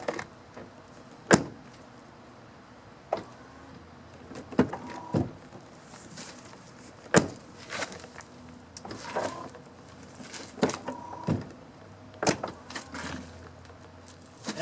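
Ford power running board motor operating while being serviced, giving repeated short mechanical whirs and clunks at irregular intervals, close and fairly quiet against a low background.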